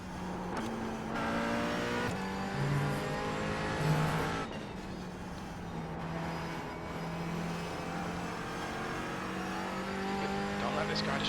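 Falken GT4 race car in a VR sim racing game at the Nürburgring Nordschleife: a steady, droning engine note rises and falls through gear changes, close and continuous, with a voice talking over it.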